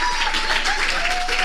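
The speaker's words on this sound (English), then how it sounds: "give her a round of applause" A seated audience at Harvard applauds a woman professor with steady, dense clapping and a faint sustained tone running underneath, filling the short moment throughout.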